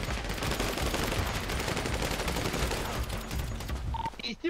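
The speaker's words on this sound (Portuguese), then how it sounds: "Você tá tomando tiro em cima do galinheiro." Sustained gunfire in a GTA 5 roleplay game, a dense rapid fusillade of shots filling nearly the whole stretch at loud, steady level before cutting off near the end.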